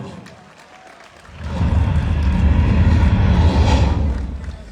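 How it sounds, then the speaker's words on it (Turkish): Crowd at the Adana 1954 FK season opening applauding as players are introduced, clapping swelling in after a quieter moment and holding steady, a broad roar of hands and voices. "İsmail sonrası alkışlar devam etsin"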